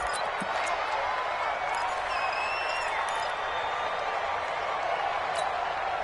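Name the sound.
stadium crowd noise in a PS4 football video game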